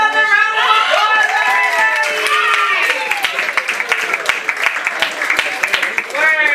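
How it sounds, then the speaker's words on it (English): Crowd at a graduation dinner keeps clapping and cheering steadily, with excited voices and whoops rising over a dense patter of hands throughout. "Give him another round of applause,"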